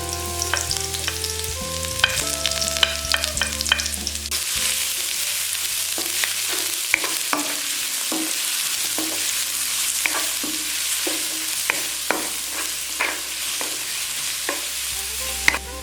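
Garlic, onion and curry leaves are stir-fried for cheese kottu, with a steady sizzle under quick, irregular metal scrapes and clinks of stirring.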